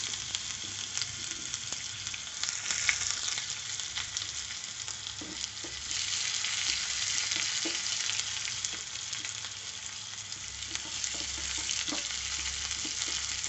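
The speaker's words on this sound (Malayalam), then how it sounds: "എണ്ണ ചൂടായിട്ടുണ്ട്. നമുക്കിനി അതിലേക്ക് കടുക് ഇട്ട് കൊടുക്കാം. ഇനി നമുക്ക് അരിഞ്ഞ ഉള്ളി ഇട്ട് കൊടുക്കാം." Chopped onion and mustard seeds fry in hot oil for a Kerala beans thoran, making a continuous close sizzle with a few faint stirring knocks and no talking.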